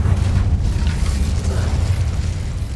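A fiery Incendio spell in Hogwarts Legacy, heard as a steady, loud rumbling roar of flame with deep low-end boom across a short burst.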